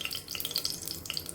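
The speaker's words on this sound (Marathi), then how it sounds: "कांदा चांगला व्यवस्थित फ्राय करून घेऊ" Chopped onion frying in a ladleful of hot oil in a pressure cooker for mutton handi, a soft, close crackle with small pops and stirring scrapes; no voices.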